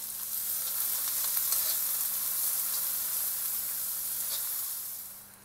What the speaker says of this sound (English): We are now going to add the 2 cups of finely chopped onion. And allow this to brown.